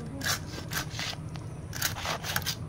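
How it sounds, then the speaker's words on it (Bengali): Knife cutting a scaled hilsa fish into pieces on a board, a run of scraping, crunchy chops in irregular bursts, fairly close and moderate in loudness. "এখন মাছটা কেটে নিচ্ছি।"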